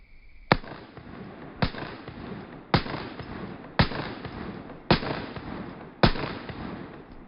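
Handgun shots fired one at a time during a concealed carry shooting drill, six sharp loud reports spaced about a second apart, each with a short echoing tail, and no talking.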